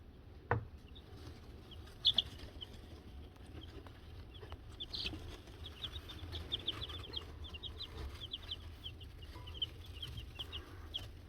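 Young egg-laying chicks in a backyard patio area, a soft continuous chorus of high peeping and clucking, faint and fairly close, with a few sharper chirps standing out and light rustling underneath.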